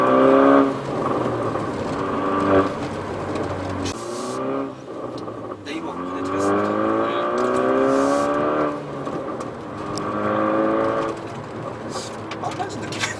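A Hyundai i30 N Line manual's exhaust with a variable muffler droning and rising in pitch through revs, then settling and climbing again, with people talking over it.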